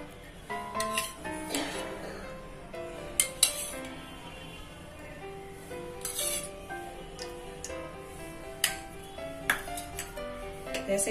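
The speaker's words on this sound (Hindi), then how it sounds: "मैंने यहाँ एक कढ़ाई रख ली है। इसमें मैं डाल दूंगी 2 टेबलस्पून ऑयल" A metal kadhai set down on a kitchen stove, then small clinks and taps of utensils as oil goes in for kachori stuffing, close and fairly quiet with a few sharper metallic pings.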